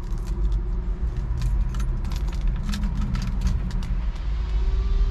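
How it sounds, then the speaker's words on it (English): Keys jangle in bursts as they come out of a pocket beside a 1954 Chevrolet 3100 pickup, over a steady low car rumble in the background. "Let me go ahead and grab the keys out of my pocket"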